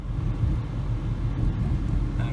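A 2008 Ford Focus driving along a road, heard as a low, steady engine and road rumble inside the cabin, moderately quiet and continuous with no talking.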